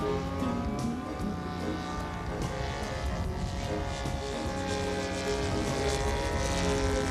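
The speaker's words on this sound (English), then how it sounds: "This flyby will give you an idea of how realistic this aircraft really is." A 99-inch-wingspan, 32-pound scale model Waco-D biplane passes by in flight, its propeller engine a steady, buzzing drone that swells slightly as it nears, with no talking.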